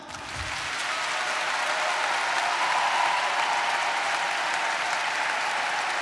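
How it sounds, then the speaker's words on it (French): A room full of people bursts into applause, a dense, sustained clapping that holds steady for several seconds without talk. "Ceux qui votent pour le jeu biblique, vous applaudissez maintenant."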